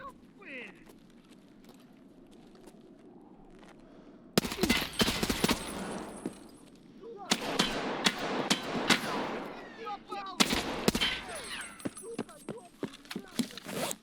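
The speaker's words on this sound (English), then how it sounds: "Shots from across the street." Gunfire in Escape from Tarkov crackles from across the street in two loud, dense bursts of rapid shots, set against quiet ambient background before and between.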